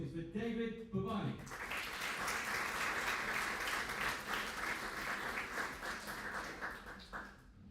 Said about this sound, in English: may I invite downstairs, kind of a round of applause, please, for David Babani